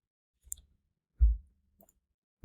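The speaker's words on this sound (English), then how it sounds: "Press Windows plus R key at the same time." A Windows key and R key pressed together on a computer keyboard: one faint tap, then two muffled, close thuds about a second apart, with no voices.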